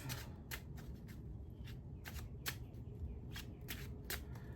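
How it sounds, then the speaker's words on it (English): Tarot cards being shuffled by hand in a run of quick riffling bursts, a dozen or so crisp flutters repeating at an uneven rhythm, close and fairly quiet against a low steady background hum. "So I'm gonna go ahead and shuffle these cards."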